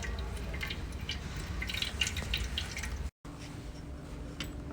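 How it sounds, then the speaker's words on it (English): Water drips and trickles close by from the outlet of a diode laser machine, with a soft steady flow and scattered small splashes and a brief cut partway through. "Then the water will come out from the water outlet hole."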